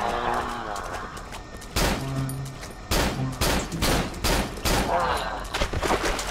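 Gunfire in the horror game Cry of Fear: several sharp, loud broadband shots at irregular intervals, some in quick pairs, over a steady background ambience with a voice talking between them.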